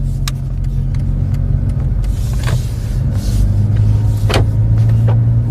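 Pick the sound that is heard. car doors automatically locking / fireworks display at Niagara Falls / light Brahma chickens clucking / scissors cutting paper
car doors automatically locking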